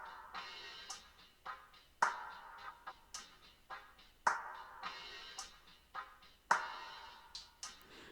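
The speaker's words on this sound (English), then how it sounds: "or percussion loop, sounds like this without any effects." An unprocessed percussion loop taps out a bright, busy pattern of short clicky hits and accented knocks, repeating evenly and fairly quiet, with no talking.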